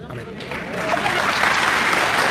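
A church congregation bursts into applause, the clapping swelling from moderate to loud and dense over a couple of seconds, with some voices mixed in.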